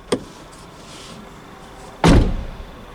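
The door of a Nissan Townstar van gives a short click as it opens, then after a pause slams shut with a loud, heavy thunk that rings down briefly, heard close with no talk.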